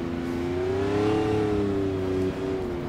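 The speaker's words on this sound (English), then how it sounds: "Still uphill, so all the revs are just wasted on wheel spin." A McLaren F1 engine in a racing simulation revs hard and steadily while the wheels spin uselessly going uphill in snow on the Nurburgring, a loud continuous drone that rises slightly in pitch and then holds.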